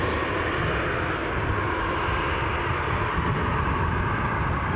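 A Jet2 airliner departing Newcastle Airport for Lanzarote roars loudly and steadily, a broad continuous engine rush that holds constant throughout.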